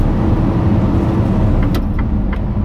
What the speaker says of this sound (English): We will set on our way, testing out the power of this Actros 2545